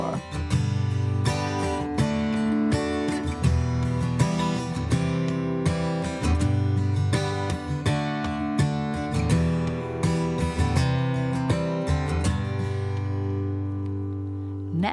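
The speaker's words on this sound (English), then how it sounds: "listen while I play two chords, 2 beats for each chord" Acoustic guitar strumming a pair of chords in a steady rhythm, each held for a couple of beats, close and clear with no voice.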